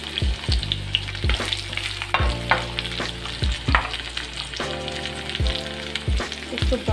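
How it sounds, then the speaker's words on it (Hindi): Onions sizzle in a pan with green chilli and garlic for a cucumber curry, a steady close frying hiss broken by repeated scraping and clanking of a spoon stirring against the metal. "इसको ब्राउन भून लेंगे पहले"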